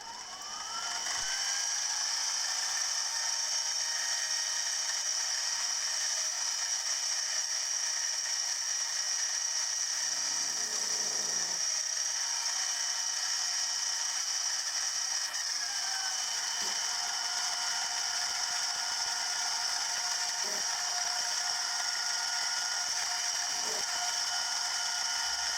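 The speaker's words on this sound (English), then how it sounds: "Finally, I'll put in a slot drill to spot face the holes." A slot drill spot-faces holes in the cylinder end cover of a Stuart Progress oscillating steam model engine on a small machine tool, a steady high whine running throughout with brief cutting noises partway through, no talking.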